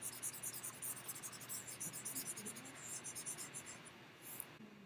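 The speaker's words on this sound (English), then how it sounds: "I'm just going to erase this and I'll show you something else." Marker being erased from a whiteboard during a units-conversion lesson, a rapid rhythmic scrubbing with a soft swishing repeated for several seconds, fairly quiet.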